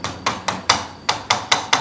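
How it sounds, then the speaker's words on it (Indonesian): A hammer wrapped in paper insulation taps on copper winding wire to straighten it while a 10 A center-tapped transformer is being wound, eight sharp evenly spaced knocks, close and loud, with no talk. "Nah, kemudian saya pakai palu"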